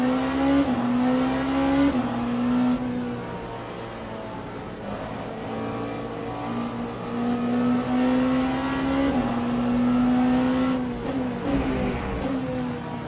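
Ferrari race car engines in Le Mans Ultimate at Circuit of the Americas, a loud sustained engine drone near the listener that rises and drops through gear changes and revs, with several cars running together.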